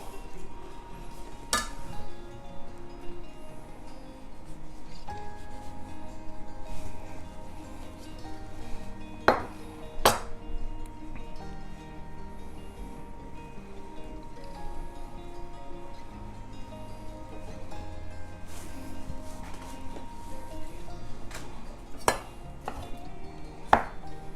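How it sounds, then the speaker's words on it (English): A chef's knife works through a very ripe avocado, halving it and cutting out the middle, with sparse sharp taps and clinks against a board and dish over a quiet kitchen background. "Take my knife. Just kind of cut out that middle."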